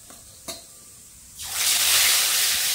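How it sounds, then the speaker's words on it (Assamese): Bahu fish pieces rubbed with salt and turmeric drop into hot oil in a kadai for a half fry; after a light tap, a loud, steady sizzling hiss bursts in and continues to the end. "এতিয়া মই ইয়াতে বাহু মাছৰ পিচখিনি ভাজিম"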